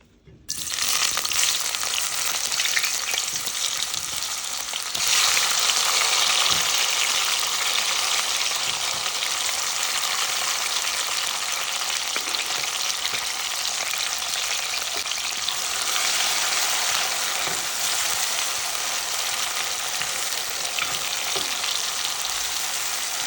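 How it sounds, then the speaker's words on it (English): Onion and tomato fry in hot oil with a loud, steady sizzle that holds for the whole stretch, with a few faint stirring scrapes and no voices. "I'm gonna go in with the onion and the tomato then first."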